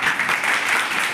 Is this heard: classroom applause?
yes